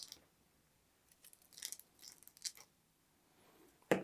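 Scissors snip linen thread in a quiet room, several faint short cuts spaced out, then a sharper close click near the end.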